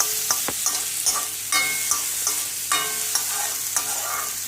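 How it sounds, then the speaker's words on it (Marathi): Large onion pieces roast and sizzle in a pan while a spoon stirs and scrapes them, with repeated clinks of utensil on metal over a constant frying hiss, close and fairly loud. "चांगलं भाजून कांदा मोठा मोठा भरपूर घालायचा"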